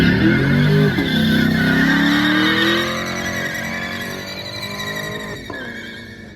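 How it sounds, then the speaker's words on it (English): A Chevy car engine at a car meet revs and climbs in pitch, drops as it shifts gears, then pulls again and fades slightly, fairly close and with no talking. "I like the way Chevy shifts"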